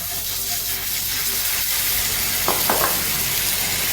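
Butter going into hot caramel cooking over low heat in a pan, giving a steady sizzling hiss throughout with a couple of brief louder crackling bursts near the end, no talking.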